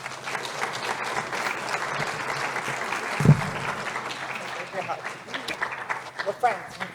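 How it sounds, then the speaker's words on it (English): Audience applause greets Kate McKenzie as she takes the stage at a college food security summit, steady clapping across the room with chatter mixed in and one brief thump midway. "Please give a round of applause and a warm welcome to the fabulous Kate McKenzie."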